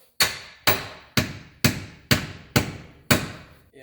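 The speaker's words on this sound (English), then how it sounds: "Slip that guy in as best you can, and don't be afraid to whack it with a mallet." Mallet whacks a bolt into a car control arm on a 2015 Kia Forte 5 with seven sharp, evenly spaced metallic blows, each loud and close with a short ringing decay.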